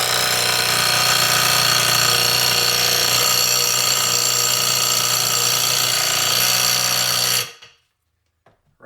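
A Harbor Freight Hercules impact wrench tightens a fastener in a loud, continuous rattling hammer burst lasting several seconds, then cuts off abruptly into near silence with a small click after.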